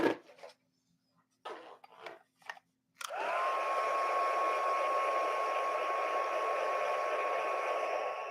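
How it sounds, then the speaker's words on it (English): After a few soft handling knocks, a heat tool switches on to heat-set ink on a card and runs as a steady, constant blowing whine until the end. "I'm going to heat set it so it won't hold on to the rest"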